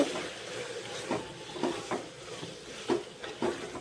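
Ingredients for biryani being sautéed in a pan, with soft scraping and stirring strokes recurring every second or so over a low, quiet background hiss.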